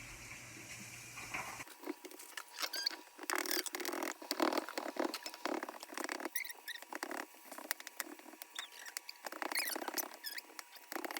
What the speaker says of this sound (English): So I'm just roughly chopping